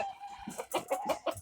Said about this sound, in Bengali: ঝুটিওয়ালা একটা মোরগ।